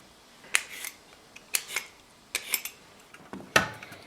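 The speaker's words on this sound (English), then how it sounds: "get a piece of ginger about this big, 2-3 inches, and just trim off the dead stuff on the sides and the ends, and just give that a quick peel" A 2–3 inch piece of ginger is trimmed and peeled with a blade, producing four or five sharp, brief cutting and scraping clicks spaced about a second apart, close up against a quiet background.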